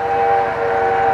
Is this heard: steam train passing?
yes